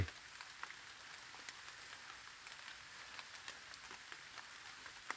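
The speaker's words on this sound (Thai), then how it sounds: "ท่ามกลางบรรยากาศฝนตกพรำพรำ" Light drizzling rain falls in a mountain forest, a soft, steady, faint patter of drops with occasional slightly sharper ticks, continuous throughout and with no voices.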